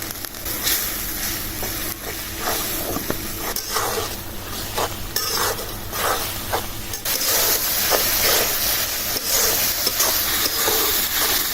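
Spice paste of ginger, garlic, turmeric, chilli, coriander and cumin frying in a pan for a sea fish curry, a continuous loud hiss and sizzle with scattered stirring scrapes that grows fuller toward the end.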